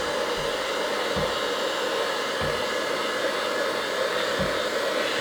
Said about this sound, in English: heat gun, come on, because that hasn't anywhere near dried.